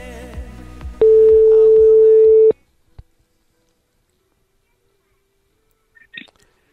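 A phone call to Jérémy gives a single steady electronic ringing tone lasting about a second and a half, followed by a click and near silence, with faint talk before it.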